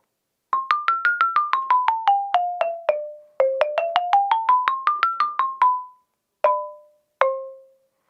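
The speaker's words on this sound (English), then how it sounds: "So this is a xylophone." Orff xylophone with wooden bars struck by mallets, a quick stepwise run down and back up the scale in bright, dry, short-ringing notes, ending with two separate single strikes, heard alone.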